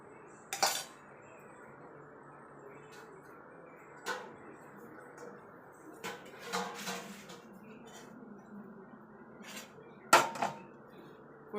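Coconut chutney ingredients go into a mixer jar in a home kitchen, with scattered sharp clinks and clatters of spoon and jar among quiet pauses.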